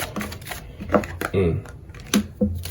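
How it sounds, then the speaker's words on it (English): Cards being shuffled in short crisp bursts, close by, with a person talking intermittently over the riffling. "Hopefully you don't mind me shuffling pile 1"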